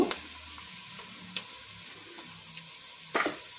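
Onions fry in a pan with salt and turmeric for Karnataka girmit, giving a continuous close sizzle, with sharp scraping stirs at the start, midway and near the end.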